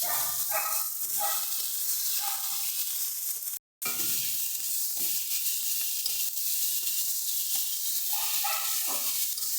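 Chopped tomatoes going into a pan of frying mustard paste masala for a fish curry, a bright steady sizzle with bursts of stirring scrapes, and a short gap of silence partway through.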